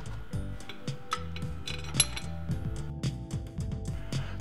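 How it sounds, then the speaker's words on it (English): Mounting bolts being tightened on a Fisher 2052 valve actuator, close and fairly quiet metallic clinks and ratchety ticks in an uneven rhythm with small taps throughout. "Now, reinstall and tighten down your mounting bolts."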